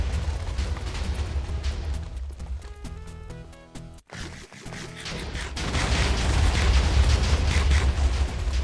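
TNT blasts blowing apart walls in the Minecraft video game, a rumbling series of booms and crackling debris, briefly dropping away mid-stretch before a louder, denser wave of explosions rolls on.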